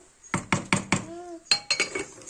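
A metal spoon clinks and scrapes against a pot of cooked rice pilaf, a quick series of sharp taps, a short pause, then another cluster of knocks, close and fairly quiet.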